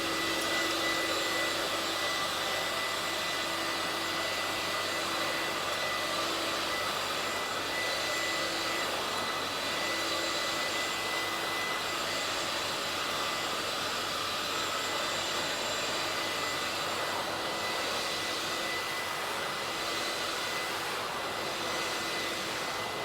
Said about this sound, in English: what we're going to do now is extract this area here